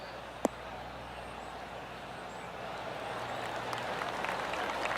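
A golf gallery at TPC Sawgrass during THE PLAYERS Championship in PGA Tour 2K23 gives soft, diffuse applause that swells slightly toward the end after a single sharp club strike, heard from a distance.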